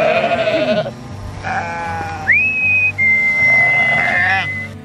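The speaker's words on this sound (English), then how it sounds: "I'm gonna whistle, which is gonna signal to them that it's time for a paddock move." A shepherd whistles sharply with long, sustained tones, signaling a paddock move, while sheep bleat loudly nearby, their calls overlapping the whistling.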